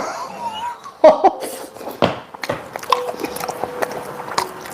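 Person biting and chewing food, a few crisp bites and wet chewing sounds up close, mixed with soft murmurs and a little laughter.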